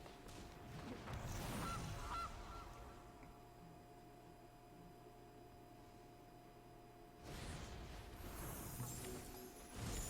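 A goose honk for the Gilded Goose card in the video game MTG Arena, with a honking burst, a quieter hum, then a second honk over low game background.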